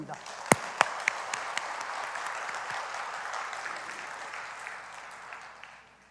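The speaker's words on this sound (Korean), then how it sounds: "우리 하나님께 영광의 박수를 올려드리겠습니다." A church congregation breaks into applause, a few sharp near claps at the start leading into a dense, sustained wash of clapping that gradually fades out over several seconds.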